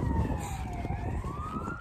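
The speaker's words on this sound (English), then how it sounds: "I was wanting to turn around and see where this ambulance was at." An ambulance siren wails along a nearby road, its rising and falling tone continuous and fairly loud above rumbling road and wind noise.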